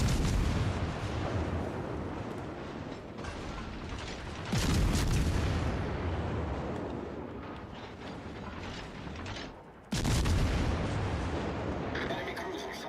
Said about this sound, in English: I hear shells coming in.